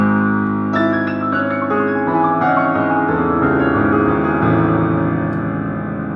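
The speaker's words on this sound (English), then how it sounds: "if you don't change the pedal, it gets dirty like this." Piano bass notes played with the sustain pedal held down, so the low notes pile up into a dense, muddy, ringing blur, with new notes struck over the steady wash of earlier ones.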